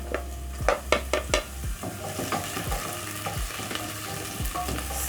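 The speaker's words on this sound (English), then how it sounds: "So I'm using medium flame to cook my onions." Onions and coriander frying in two tablespoons of oil over a medium flame for a green peas curry: a quick burst of spatula clacks against the pan, then an even, continuous sizzle with light stirring.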